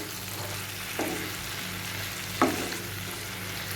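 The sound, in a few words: tomato ketchup being mixed into frying bitter gourd paturi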